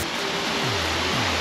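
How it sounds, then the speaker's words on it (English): Steady broadband rush of a waterfall, heard close and loud throughout as a dense, unbroken roar with faint low tones drifting beneath, with no talk. "We're coming up to this waterfall."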